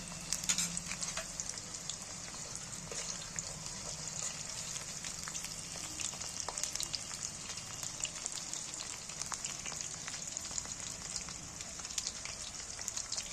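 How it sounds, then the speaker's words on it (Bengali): Okra frying in oil makes a quiet, continuous crackle and sizzle like light rain, with a few small scattered pops and taps, fairly faint and steady throughout, no voices. "ভেজে নেব খুব বেশি ভাজবো না দেখো ঢ্যাঁড়সগুলো আমার ভাজা হয়ে গেছে"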